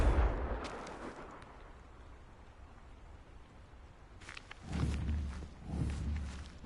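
A spell blast in the Hogwarts Legacy video game lands with a muffled, booming burst followed by a second rumbling impact, both fairly faint against quiet background.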